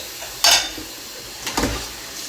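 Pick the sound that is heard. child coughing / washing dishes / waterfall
washing dishes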